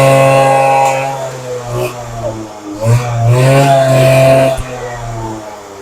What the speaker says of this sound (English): And you can rev it up.